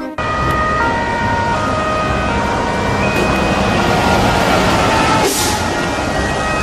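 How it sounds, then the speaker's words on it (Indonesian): A loud wailing siren from a nearby fire truck, steady tones over rumbling engine and road noise. "Oh, nah ada truk tangki air pemadam kebakaran"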